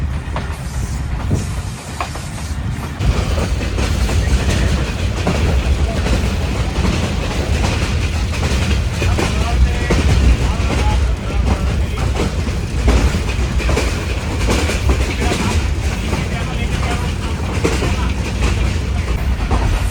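The Khushal Khan Khattak Express train rumbles loudly along the tracks in Pakistan, a continuous roar with rhythmic clatter of wheels and hissing, close and sustained.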